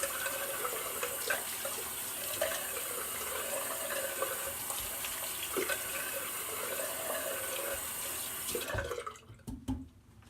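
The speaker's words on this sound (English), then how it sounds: "we'll do a quick rinse off" Water runs steadily from a bathroom tap for a rinse after a shave with a Karve Christopher Bradley razor, then cuts off near the end, leaving a few faint drips and clicks.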